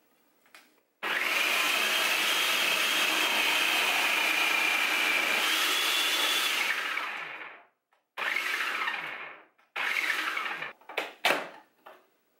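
Carrots are shredded in a food processor using the pulse button: a long loud motor whir, then two shorter bursts and a few quick stuttering pulses, with brief silences between.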